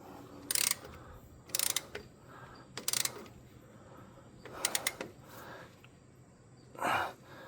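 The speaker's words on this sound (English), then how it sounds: "I just run them in with the ratchet until they touch" A hand ratchet runs in brake caliper bolts on a 2001 Ford Excursion or Super Duty in short bursts of quick metallic clicking, with quiet pauses between them and a softer breathy sound near the end.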